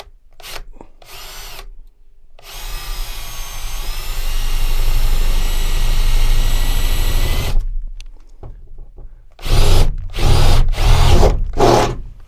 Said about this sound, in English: we're going to now drill a hole